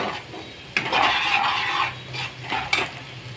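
Sliced onions and green chillies sizzle in hot oil in a pan, with scraping stir strokes and clinks of a spatula against the metal rising and falling over a soft frying hiss.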